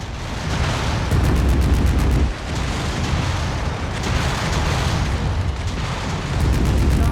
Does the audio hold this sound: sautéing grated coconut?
no